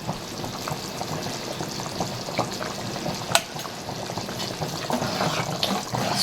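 A pot bubbles and simmers steadily, with soft crackles and liquid pops throughout at a moderate, close level.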